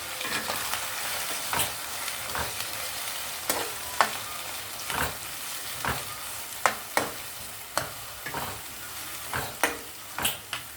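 Pieces of ivy gourd (dondakaya) frying in oil, cooking in their own released water, give a steady close sizzle. Sharp scraping and clinking stirring strokes recur through it, and nobody speaks.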